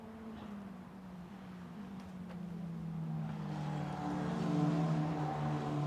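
A Formula Renault FR19 single-seater race car on the Spa-Francorchamps circuit during a 2019 Eurocup race, its engine note steadily building and rising in pitch as it approaches and sweeps past, loud and continuous with no talk.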